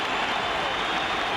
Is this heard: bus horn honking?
no